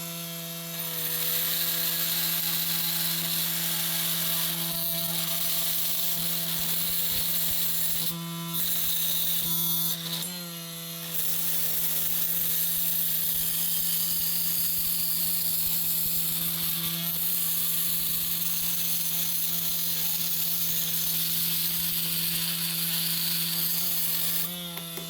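Oscillating multi tool fitted with a wood-metal blade cutting through 1/2 inch copper pipe, a loud, close, buzzing rattle that runs almost continuously, with two brief pauses near the middle, no talking.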